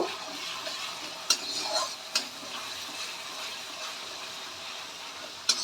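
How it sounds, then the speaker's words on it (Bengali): Ginger garlic paste fries in a pan for Pakistani chicken curry with a faint, steady sizzle, broken by a few sharp utensil taps against the pan. "আদা রসুনের পেস্টটা আমি একটু ভেজে নেব"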